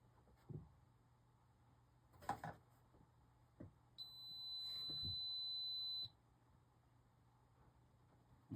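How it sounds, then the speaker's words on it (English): An Arabian arcade machine under restoration gives a single sustained electronic beep lasting about two seconds, framed by a few soft clicks and knocks in a quiet room. "Why is that beeping?"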